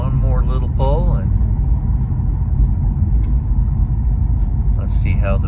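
A Subaru Outback XT turbo gives a steady low engine rumble from inside the car, with no sharp surge in pitch. Someone talks briefly at the start and again near the end.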